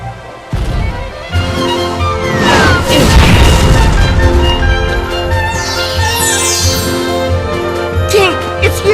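A pirate ship's cannons boom in the Kingdom Hearts Birth by Sleep video game, with heavy crashes and impacts over swelling orchestral music and brief voices.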